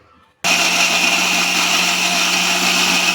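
Mixer grinder jar grinding ginger, garlic and onion into paste: after a brief quiet moment the motor kicks on abruptly into a loud, steady, high-pitched whirr that runs unbroken to the end.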